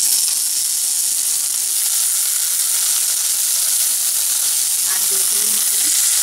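Potatoes tipped into a pan of softened sautéed onions for a cabbage and green peas sabji, a steady close hiss of frying throughout with faint stirring clinks near the end.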